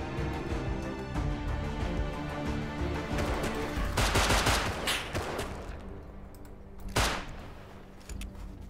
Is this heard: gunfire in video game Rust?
yes